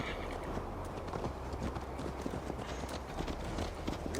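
Horse hoofbeats in Assassin's Creed Valhalla sound as a steady, fast clip-clop of a ridden mount, close and fairly loud over a constant bed of ambient game noise, with no talk.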